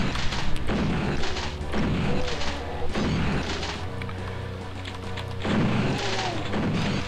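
Barrels exploding in the video game DooM, several heavy booms and crashes repeating at intervals, loud and dense with game music and noise underneath.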